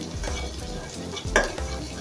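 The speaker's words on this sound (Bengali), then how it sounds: "এই যে পেঁয়াজটা একটু ভাজা ভাজা হয়ে গেছে দেখেন" Onions frying in a pan while cooking a Bengali poa fish bhuna, a steady close sizzle with stirring scrapes and one brief clatter of the spatula.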